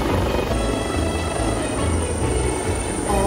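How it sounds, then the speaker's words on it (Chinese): A Government Flying Service helicopter passing over Cheung Chau island, heard as a loud, steady broadband rotor and engine roar that stays constant throughout, with no voices. "真系第一次见飞行服务队嘅直升机嘅"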